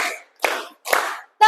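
A class claps hands together in a counted rhythm, three sharp bursts of clapping in quick succession followed by a brief tonal sound at the end.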